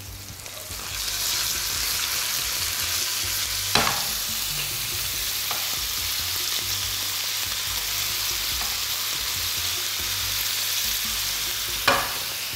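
Dough pieces for Shirak-style pastry fry in hot oil, a loud, even sizzle that holds steady, broken by a couple of sharp clinks from a utensil.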